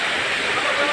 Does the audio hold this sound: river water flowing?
yes